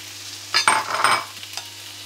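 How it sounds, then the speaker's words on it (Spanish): Sliced peppers, green beans and carrot frying in a pan over onion and garlic on a ceramic hob, stirred with a few brief scraping, sizzling bursts of moderate loudness before quieting. "Ahora lo vamos a cocinar todo junto durante unos 4 o 5 minutos, removiendo a menudo."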